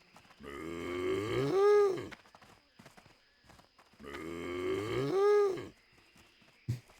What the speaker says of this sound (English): This guy's over here just mooing.